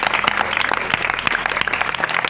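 A church congregation applauds the Lord, a dense, steady burst of many hands clapping, loud and close, filling the whole stretch without a pause.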